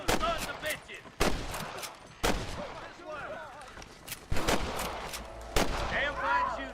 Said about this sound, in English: Damn fine shooting, boys.